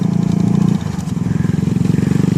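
A nearby motorcycle engine thrums with a steady low pulse, its pitch shifting midway as it moves past, with no voices.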